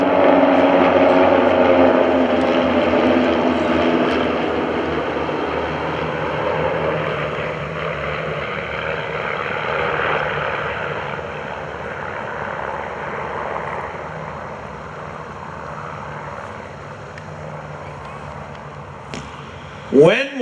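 A Team RV formation of twelve planes passes at an airshow, a loud propeller drone that gradually fades as the aircraft move away, with crowd and commentary sounds faint beneath.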